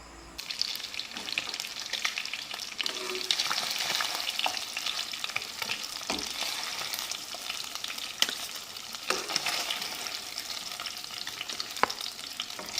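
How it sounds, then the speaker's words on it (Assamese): Fish pieces coated in salt and turmeric fry in oil in a wok, a soft steady sizzle with sporadic crackles and utensil clicks, fairly quiet throughout. "মাছ কেপিচ নিমখ হালধি নলগাকৈ এনেকৈ ৰঙচুৱা পৰালৈকে ভাজি লম"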